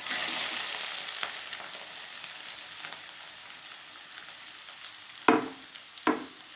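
Mango pieces frying in hot oil for a sweet-sour pickle, a steady soft sizzle with two sharper bursts near the end as the pieces are stirred or added.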